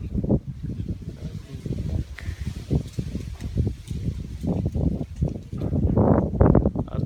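A strong northerly wind buffets the microphone outdoors, making loud, irregular low rumbling gusts that swell and fade across the whole stretch, with no speech.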